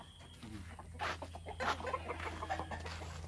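A few chickens cluck in short, faint bursts over a low background hum, fairly distant, with no clear talk.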